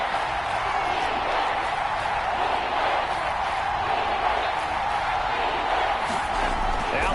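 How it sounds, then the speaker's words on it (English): Stadium crowd in a football video game, a steady, dense roar of many voices that holds without pause beneath a commentator's talk. "That just means this crowd's going to get even louder"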